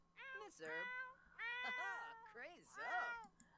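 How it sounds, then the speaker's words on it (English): A cat in The Sims 4 meows four times in a row, each call clear and close, rising and falling in pitch with short gaps between them. "the cat is meowing"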